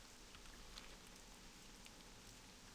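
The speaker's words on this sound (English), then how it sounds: "Looks like we came on a rainy day." Steady rainfall in the World of Warcraft zone Ashara, a soft continuous hiss that stays at an even level throughout, with a few faint higher ticks over the wash.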